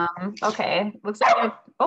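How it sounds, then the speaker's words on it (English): A pet dog barks and yips close by in a home during an online class, the sharp barks mixed in with a person talking. "sorry, that's my dog."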